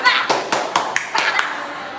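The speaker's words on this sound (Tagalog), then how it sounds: "Pumalakpak kayo." A few scattered hand claps, sharp and separate rather than sustained applause, over a faint background murmur.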